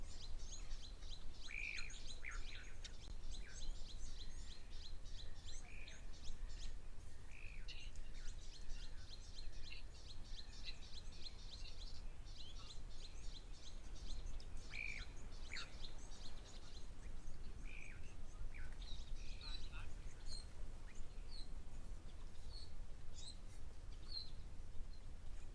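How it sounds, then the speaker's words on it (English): Black-winged stilt calling at a waterhole, giving short sharp chirps and repeated tweeting notes at a distance over a steady outdoor hiss, faint and scattered through the scene. "There's a black-winged stilt again."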